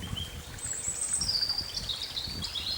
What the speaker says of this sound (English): I can hear a robin in the background there.